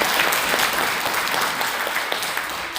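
An audience at a farmers' gathering claps steadily for a few seconds, a dense, loud wash of applause filling the space without letup.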